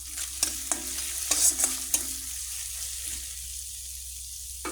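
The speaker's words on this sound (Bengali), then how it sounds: "সর্ষে বাটা এটাকে একটু কষাবো" Mustard paste is sautéed in a pan for a fish curry, with a handful of quick spoon scrapes and taps over a low background hum, then fading to near quiet.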